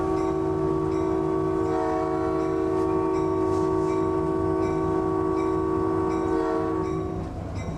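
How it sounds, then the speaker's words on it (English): A locomotive horn blows one long, loud, sustained chord close by, holding steady for the whole stretch before easing slightly at the end. "the engineer pulls this lever to blow the horn"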